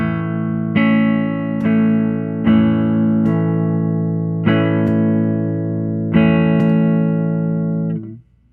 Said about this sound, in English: we're going to start in the vibrato position, and we're going to set all these knobs to 0.